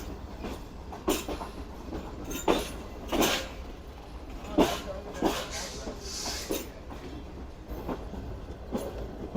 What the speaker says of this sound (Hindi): 1:25 पर डिपार्चर हुआ है जी हमारी ट्रेन का खानेवाल जंक्शन से